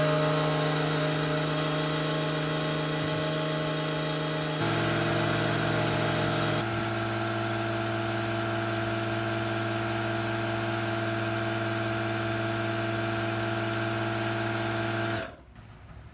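An Etenwolf Vortex S6 cordless air compressor pumps to inflate with a loud, steady, close motor drone. Its pitch shifts slightly partway through, and it runs continuously for about fifteen seconds before shutting off abruptly.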